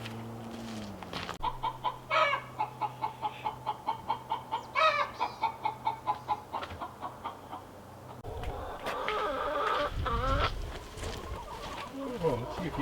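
Hens cluck near nesting boxes in a coop, a series of short rhythmic clucks and squawks rising to louder, busier fowl calls near the end, close by with no talk.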